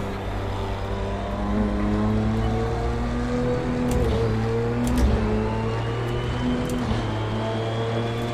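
Audi R18 race car engine in a sim racing game driven at the Nordschleife, a loud, steady droning engine tone with strong harmonics held throughout, rising and falling slightly with throttle.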